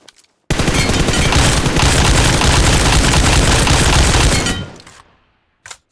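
Dense, continuous automatic gunfire from a BGMI battle royale match, a loud unbroken burst of shots lasting about four seconds before cutting off, followed by a short quieter tail and a brief final sound.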